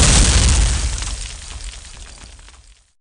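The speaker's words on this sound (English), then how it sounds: "I'm able to explode the Taurox here" A Taurox tank explodes in a Warhammer 40k battle report: a loud, deep blast hits at once and then rumbles away in a long crackling fade over about three seconds.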